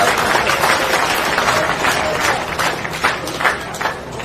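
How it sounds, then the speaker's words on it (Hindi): Audience applause and scattered clapping from a crowd at a Rajasthan political rally, loud and continuous with sharper bursts near the end, mixed with crowd voices. "ताली तो बजा दी"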